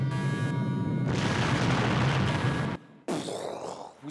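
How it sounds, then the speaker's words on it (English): A loud, sustained explosion-like roar with broadband rumble lasting about three seconds, then a brief cutoff before a second burst of noise trails off. "Because there's an explosion at the end."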